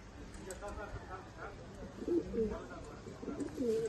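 Tippler pigeons in a collection coo softly in a few low, rolling calls at fairly close range, faint under people talking.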